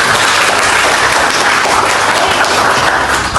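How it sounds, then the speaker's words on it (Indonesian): Students in a school classroom applaud after a group's poetry reading, a dense, steady burst of clapping that stays loud and even throughout with no talking. "Tepuk tangan."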